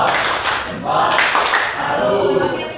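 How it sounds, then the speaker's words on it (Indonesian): Primary classroom group doing a rhythmic 'tepuk salut' clapping cheer, a burst of many hands clapping together with children's voices chanting over it, fairly loud and close. "kita kasih tepuk salut. Tepuk salut."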